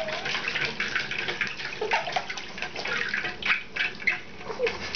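A dog sloshes and splashes in water steadily for several seconds, broadband and fairly close, with irregular bursts as it moves through it.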